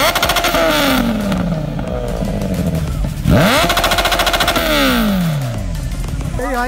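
Motorcycle engine revving on a Sunday highway ride, loud and close, pitch repeatedly rising and falling with a sharp rev burst midway, continuous throughout.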